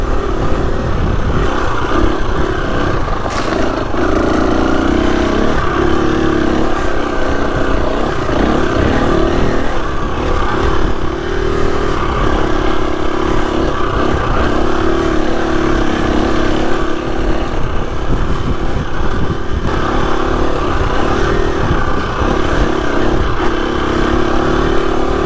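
A Husqvarna FE 250 dirt bike is ridden off-road on a dirt mountain trail, its engine close and continuous, revving and shifting through the ride, with no talk.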